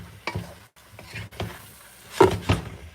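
Curry chicken stirred in a pot with a spoon, several soft scraping strokes over a quiet sizzle, close and fairly faint, with a couple of sharper clinks near the end.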